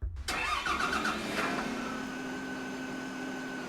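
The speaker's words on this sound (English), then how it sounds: "I'm going to hit the engine start button on my dash" An Iveco bus engine in OMSI 2 cranks briefly and catches, then settles into a steady, even idle hum that carries on to the end.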